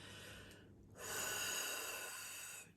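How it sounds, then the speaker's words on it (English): A single deep breath taken during a calm guided reading: a short intake, a brief pause, then a long, close, soft exhale trailing off, heard alone without any talk. "take a deep breath with me"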